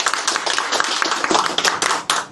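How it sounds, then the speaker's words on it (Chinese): A banquet crowd at the opening ceremony of the Shinryugin restaurant in Osaka claps briefly, a dense, steady patter of many hands at close range with no voices over it. "掌声谢谢"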